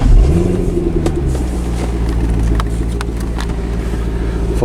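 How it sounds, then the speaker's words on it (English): A Chevrolet C6 Corvette convertible with push-button ignition fires up with a rising whir, then settles into a loud, deep, steady idle rumble close by, with a few faint clicks over the top. "Alright, so let's start it up."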